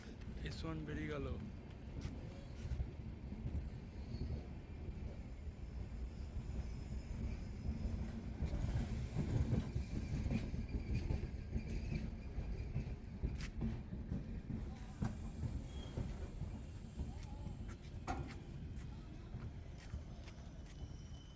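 A passenger train moving past, a heavy continuous rumble and rattle that swells toward the middle and stays loud throughout, with people talking over it.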